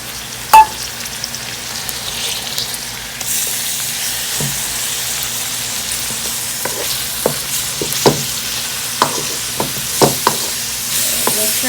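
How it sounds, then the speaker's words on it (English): Chopped tomatoes frying with onions in a pan as the base for a crab curry, giving a steady close sizzle broken by several sharp stirring clicks and knocks, with no talking. "Now I'm adding the chopped up tomatoes."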